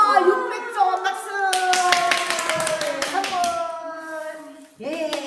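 A children's church class claps together in a quick burst of close, sharp hand claps over excited voices, and the speaking carries on around the clapping.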